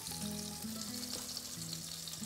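Mushrooms frying in a pan with onions for an Italian fungi piccante, a dense steady sizzle and crackle throughout, close and continuous with no voices.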